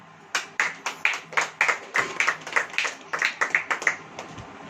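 Hands clap in a steady rhythmic beat during a church sermon, roughly twenty sharp, distinct claps close together, fairly quiet and with no talking over them.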